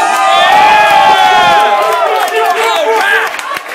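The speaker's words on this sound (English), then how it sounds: "Young Philly, give a round of applause, boys." Crowd cheering and shouting after a first-time rap performance at a Hump Day show, loud and dense with whoops and voices rising over one another, then easing slightly toward the end.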